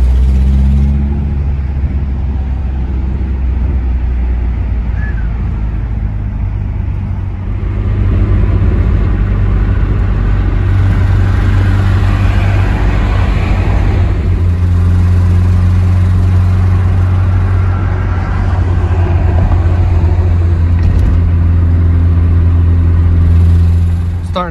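Engine of a Nissan S-chassis drift car running with almost no exhaust, a steady loud low drone with mild rises in revs as it cruises through heavy traffic; a voice talks faintly over it.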